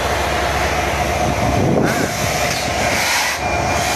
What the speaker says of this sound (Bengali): একটি ট্রেন, একটি আমার পিছনে আর একটি ওই দিক দিয়ে এই যে ঘটঘট শব্দে যাচ্ছে